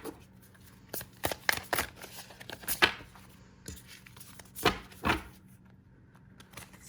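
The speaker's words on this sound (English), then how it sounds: "Let me shuffle a few more times here." Tarot cards are shuffled by hand in quiet, close bursts of papery riffling and slapping, several separate shuffles with short pauses between them.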